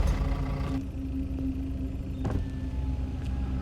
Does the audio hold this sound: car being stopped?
yes